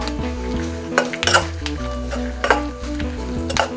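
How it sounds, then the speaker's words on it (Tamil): Dried red chillies and tamarind fry in a pan for ullundu thogayal, with a steady sizzle under repeated clinks and scrapes of a metal spoon against the pan. "3/4 பாகம் வெந்த போது நம்மளுடைய காஞ்ச மிளகாயை போட்டுக்கலாம்"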